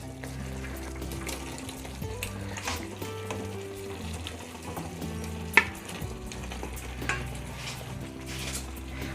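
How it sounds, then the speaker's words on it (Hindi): Boiled pasta being gently stirred into a pan with milk, cheese and spices, soft continuous sizzling with scraping stir sounds and a couple of sharp utensil clinks against the pan, close and fairly quiet. "और इसे भी हल्के हल्के हाथ से हम सब चीज़ों के साथ मिक्स कर देंगे।"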